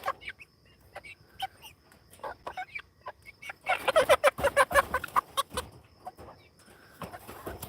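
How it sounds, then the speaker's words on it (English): Young chickens on a farm cluck repeatedly, starting with scattered calls that build into a loud, rapid burst of clucking midway before tapering off. The sound is close and clear. "You are going to be a cool looking chicken."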